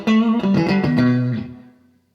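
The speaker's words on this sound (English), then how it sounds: "perhaps that's more of what people would think of as a plate reverb." A guitar played through the 80s plate reverb setting of a Strymon Flint pedal, a few ringing chords sounding alone and close, then a smooth reverb tail fading out over about a second.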